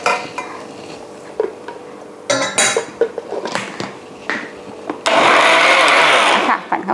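Clinks and knocks of kitchenware lead into a loud, close whirring blend of Chinese plums for sorbet that runs steadily for a couple of seconds near the end.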